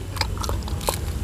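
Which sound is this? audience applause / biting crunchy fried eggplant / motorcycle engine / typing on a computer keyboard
biting crunchy fried eggplant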